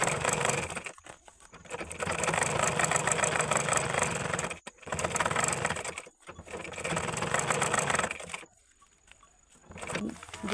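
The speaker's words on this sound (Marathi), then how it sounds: "मी अर्ध्या इंचावर शिलाई मारत नेणार आहे" A sewing machine runs in long steady rattling bursts with brief pauses while stitching a small cloth bag at half an inch from the edge, close and fairly loud.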